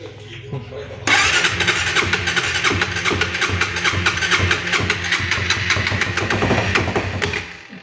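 A car engine with low compression cranks on the starter, then catches about one second in and runs loud and rough, with rapid uneven firing and revving close to the microphone.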